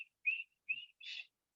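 A person whistles in short high-pitched bursts to imitate the wheeze of breath forced through a collapsed airway: three to four separate whistles, the last one broader and breathier, with silence between them.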